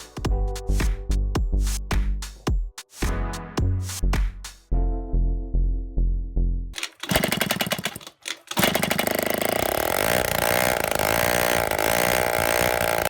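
An unmuffled motorbike engine, run with its exhaust removed after being filled with cooking oil instead of motor oil, sputters and pops in uneven bursts, stalls briefly, then catches and roars into a loud, harsh, continuous rattle close by.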